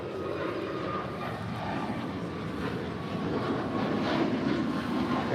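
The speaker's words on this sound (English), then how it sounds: "This is Air Canada flight 553 departing to Vancouver" Far-off roar of an Air Canada airliner taking off from LAX, a low, broad rumble that swells slightly toward the end, with no talking.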